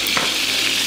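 Lamb pieces fry in a pan for a Transylvanian-style lamb stew, giving a steady, loud, close sizzle with continuous crackling hiss and no talk.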